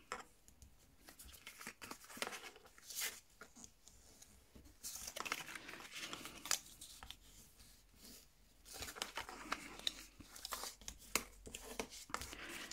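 Cardboard folds creased by hand for a memory game box, a faint series of short scraping and rubbing strokes in irregular rhythm, close and quiet with no talk.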